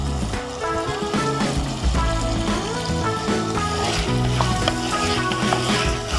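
Steady sizzling and frying of elephant foot yam with curry leaves in a pan, with occasional stirring scrapes, accompanied by a continuous musical background.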